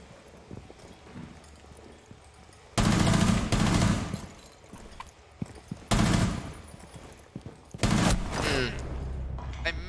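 Bursts of gunfire in a Rainbow Six Siege-style tactical shooter match, with loud sharp volleys around three, six and eight seconds between quieter stretches of movement and ambient game noise.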